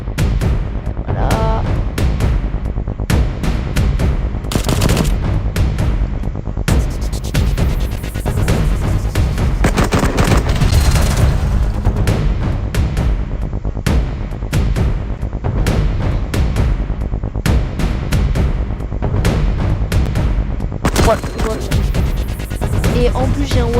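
Rapid video-game gunfire crackles in dense, repeated volleys with scattered louder bangs, continuing throughout with a player's voice occasionally heard over it.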